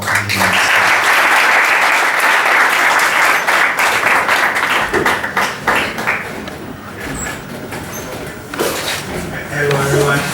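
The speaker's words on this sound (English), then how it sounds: "with a warm round of applause" An audience at the opening ceremony of a national debate championship in Togo applauds warmly to welcome a speaker, a loud, dense clapping that thins toward the end with some voices mixed in.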